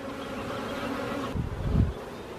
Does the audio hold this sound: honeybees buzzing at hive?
yes